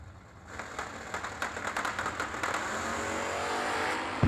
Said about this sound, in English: Philpott, the multicolored Mopar, right-hand side, 620 dialing. 714 for Blake Carnell in the 82 square edge S10 left